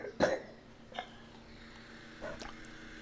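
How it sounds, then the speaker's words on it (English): A short, sharp cough up close, followed by a couple of softer throaty catches in an otherwise quiet room. "I'm going to cough."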